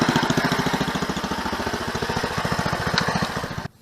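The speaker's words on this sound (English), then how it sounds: "the snowblower has been running for about 30 minutes now" A 1979 Ariens snowblower engine runs steadily up close, a loud rhythmic small-engine chug that holds even before cutting off abruptly near the end.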